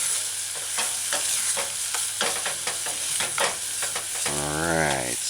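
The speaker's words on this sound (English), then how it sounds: "toss in your chili pepper and then stir fry and stir fry some more" Chicken stir-fried in a wok with soy sauce and chili pepper sizzles steadily, with rhythmic scraping strokes of the spatula, then a closing burst of louder hissing.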